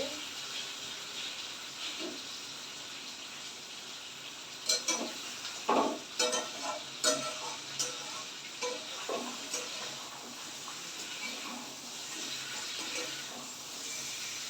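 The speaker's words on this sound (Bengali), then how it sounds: "এবার ডিমগুলো দিয়ে দিলাম হালকা হালকা ভাবে একটু নেড়ে কষে নেবো একদম তেল ছেড়ে দিয়ে" Eggs are stirred in hot oil in a pan, giving a soft continuous sizzle with a cluster of scraping clatters from a spoon against the pan partway through.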